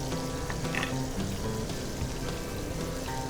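Butter sizzles in a pan around a patio-cooked steak, a dense, continuous crackling fry heard up close and fairly loud, steady for a few seconds.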